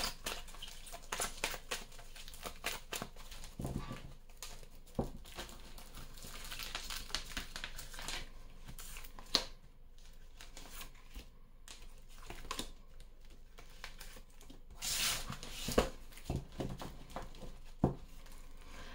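Tarot cards are shuffled and drawn at close range, with soft rapid riffling, flicking and slapping of cards in uneven bursts and brief pauses, fairly faint and without speech.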